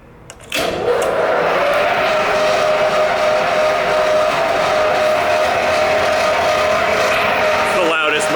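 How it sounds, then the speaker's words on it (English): A large shop ventilation fan in a garage starts up and runs loudly and steadily, a constant broadband roar with a steady tonal hum that holds for the rest of the clip. "So I'm gonna help out Darnall and turn on this fan."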